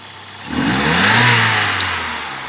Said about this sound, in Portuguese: Agora acelera para trocar pro gás.